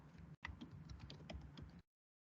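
Quick, light clicks of typing on a computer keyboard while entering data into a spreadsheet. The burst is close and fairly quiet, stops briefly and then runs on for over a second before ending in silence.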